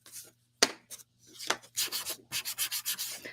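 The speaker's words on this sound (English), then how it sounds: "I'm just sanding a little bit." Wooden craft pieces being sanded by hand, close and quiet, with short rhythmic scratchy strokes in quick bursts separated by brief pauses, alone without talk.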